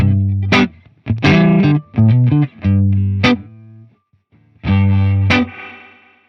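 An electric guitar through a free NAM amp simulator with amp-style distortion, played without reverb, plays a short phrase of sustained chords and notes, loud and close, with brief pauses between strums.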